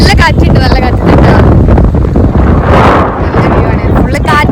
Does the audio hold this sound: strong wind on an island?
yes